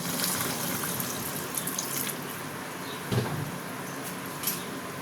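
A small splash of water poured into a simmering pan of pointed gourd and prawn curry with coriander leaves, heard as a steady close-up hiss and trickle with no talking.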